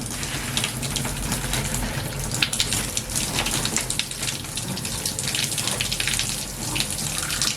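Cold water runs steadily from a tap for rinsing hair, a continuous loud hissing splash that stays even throughout with no talking over it.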